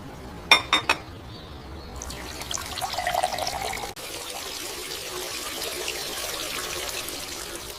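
Dishes rinsed under running water in a kitchen sink, starting with a few sharp clinks of dishware, then a steady, close stream of water that runs on without a break.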